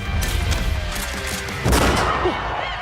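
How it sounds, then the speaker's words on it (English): Gunfire in a video game comes as a scatter of booming shots, with a heavier impact burst near the middle, set against busy game sounds and music with no clear talk. "Shots fired!"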